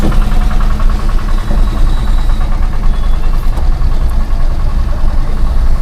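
Vehicle engines idle and rumble in congested, narrow town streets lined with long queues of cars, bikes and scooters, a loud continuous close drone with no voices.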